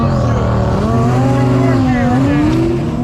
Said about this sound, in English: we've got an 8th mile race set up with the Hellcat Challenger